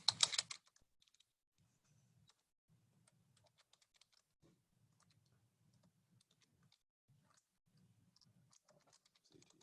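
Typing on a computer keyboard while filling out a form: quiet, scattered key clicks in short runs across the clip, following one loud burst of noise at the start.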